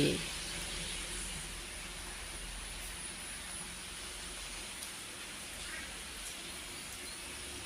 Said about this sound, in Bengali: বৃষ্টি হইতেছে বাবা, ঝিরি ঝিরি।